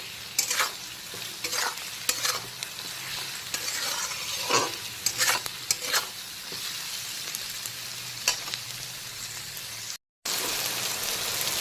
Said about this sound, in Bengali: এখন কিন্তু পেঁয়াজ আর টমেটোটাকে আবারও বেশ কিছুক্ষণ ভাজা ভাজা করে নিলাম